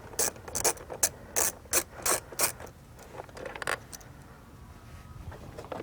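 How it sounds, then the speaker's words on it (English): A 10mm ratchet clicks in several quick bursts of pawl ticking while loosening a bolt beneath the front fender of a Kawasaki KFX 450R quad, close and fairly clear, then fainter handling noises. "To do this, you'll need your 10mm ratchet again."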